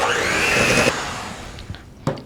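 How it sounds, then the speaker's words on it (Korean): An electric hand mixer whirs steadily for about a second, then stops, followed by a few clattering knocks of the beaters, while mixing cake batter. "저는 그 핸드믹서 쓸게요."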